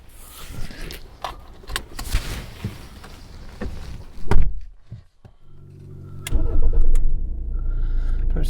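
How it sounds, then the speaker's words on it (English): Rover 75 car starting up and pulling away, with cabin clicks and handling sounds first, then an engine catching and a low steady rumble building as it drives off. "Drop it down into drive, handbrake off, and away we go."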